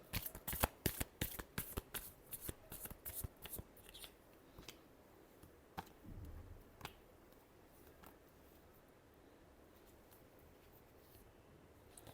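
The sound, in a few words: shuffling tarot cards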